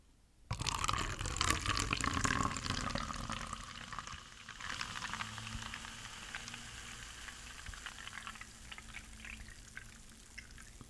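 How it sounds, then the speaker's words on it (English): Red Bull Iced Vanilla Berry energy drink poured into a cup, a sudden close splashing gush that starts abruptly, then settles into a softer steady trickle and fizz, with no talking. "But let me pour it into a cup and see what it looks like now."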